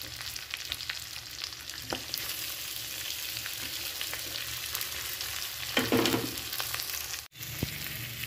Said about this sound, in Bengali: তো আমিও এটা হালকা হালকা ভেজে নিচ্ছি।